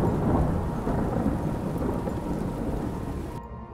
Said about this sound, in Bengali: বাইরে তখনও মুষলধারে বৃষ্টি হচ্ছে